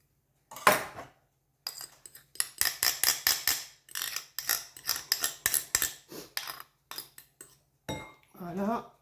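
Dishes and metal utensils clatter in a home kitchen while a lemon pound cake is being made: a series of close, sharp clinks and knocks in irregular bursts, with short pauses between them.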